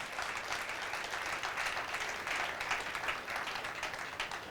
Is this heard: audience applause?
yes